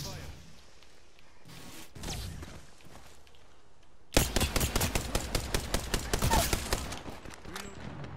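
Video game gunfire opens faintly with a few scattered shots, then turns into loud, rapid automatic bursts for about four seconds before tapering off, with voices talking underneath.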